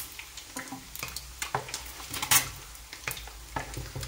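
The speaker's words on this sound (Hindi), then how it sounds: "ऑयल गरम होने पर हम इसमें अंडे डाल के अंडों को फ्राई करेंगे।" Eggs fry in hot oil for an egg biryani, a steady close sizzle broken by scraping stirs and light pan knocks, with no talking.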